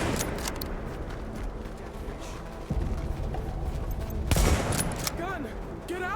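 Enemy gunfire in The Division, a third-person shooter video game, crackles in dense continuous volleys with a sharper burst near the end, mixed with game sounds and heard under a player's talk.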